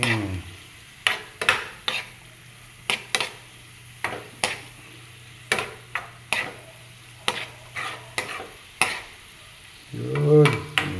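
A spatula scrapes and clacks against a pan while stirring sautéed kangkong with tofu and soy sauce, in sharp, evenly spaced strokes over a faint sizzle.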